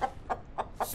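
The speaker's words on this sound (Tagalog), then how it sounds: "Ay, yung manok doon." A chicken clucks four times in quick, evenly spaced bursts, moderately close but fairly quiet, with no talking.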